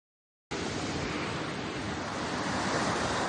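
Ocean surf roars in after a brief silence on a Mumbai beach, a steady, dense rush of breaking waves with wind noise, loud and continuous, no voices.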